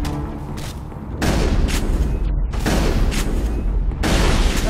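Shotgun blasts in Mass Effect, several heavy booming discharges in a row at close range, each broadband burst followed by a short decaying tail, loud and without talk.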